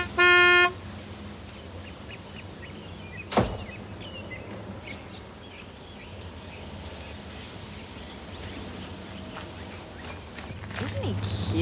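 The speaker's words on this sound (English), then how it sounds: "Just give him a honk." A car horn gives one short, bright toot near the start, followed by a quiet outdoor lull with a faint second blip and low traffic rumble, and a soft swell of noise near the end.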